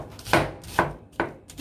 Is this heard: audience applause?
no